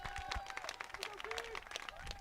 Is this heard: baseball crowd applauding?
yes